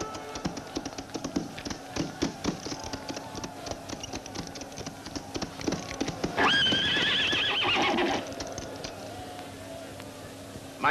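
Hooves clip-clop in an uneven rhythm, then a horse lets out a loud, shrill whinny lasting a couple of seconds before the hoofbeats continue.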